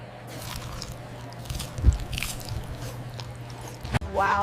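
Close biting and chewing of spiced chicken wings at a mukbang meal, with soft wet crunches and squishy chews, one sharp bite standing out in the middle, over a steady low hum.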